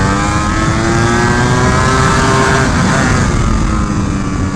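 Ducati Superleggera V4 motorcycle engine running loud and steady, its pitch climbing and falling as the rider shifts gears, with no talk.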